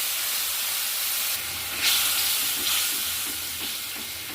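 Spices mixed in water poured into a hot pan of fried onion, tomato and green chilli for a fish curry, giving a loud, steady sizzling hiss with bursts of steam and crackle, no voices.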